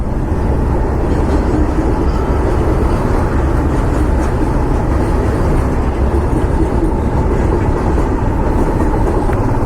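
A train passes alongside the road on a motorbike ride from Kolkata toward Siliguri, a loud, unbroken rumble and rush that fills the whole stretch with no talking.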